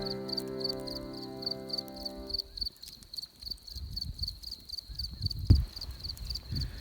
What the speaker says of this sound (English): Just listen to the crickets